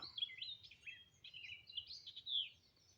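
Birds sing outdoors in a faint, busy stream of high chirps and warbling phrases that carry on throughout, against a low background rumble.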